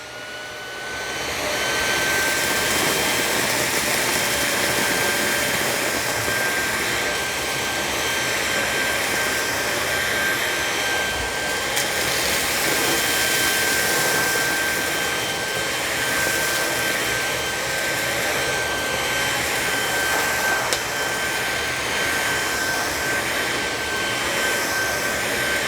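An Amazon Basics cordless vacuum runs on its high setting over carpet, giving a steady, loud whine and rushing airflow that holds for the whole stretch with no talking.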